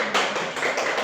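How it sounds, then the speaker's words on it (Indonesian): Classroom applause for a student presentation group, a short burst of many hands clapping together at close range, steady and fairly loud throughout with no talk. "kita beri aplaus untuk kelompok 2"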